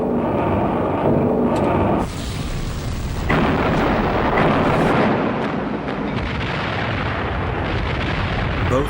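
Loud, continuous booming explosions and heavy blasts from Japanese bombers attacking the British battleship Prince of Wales and battlecruiser Repulse in WWII, a dense roar that surges sharply partway through and stays heavy to the end.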